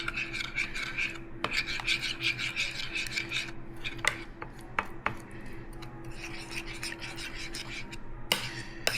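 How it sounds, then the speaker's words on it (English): A spoon stirs coconut yogurt starter into a slurry, giving a steady rasping, scraping rub against the bowl with a few sharp clinks, close and continuous with no talk. "Let's get our reuteri spoon, and let's mix this up into a slurry"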